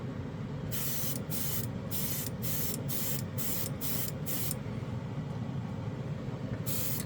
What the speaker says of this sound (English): Yeah, this airbrush really likes this paint.